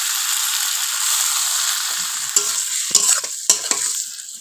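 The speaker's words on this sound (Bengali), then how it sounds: "একটু নাড়াচাড়া করে দিয়ে দেবো ভেজে রাখা আলুগুলো" Fried potato pieces being stirred with garlic cloves in a hot pan, steady sizzling broken by a handful of sharp scrapes and knocks of the spatula near the end.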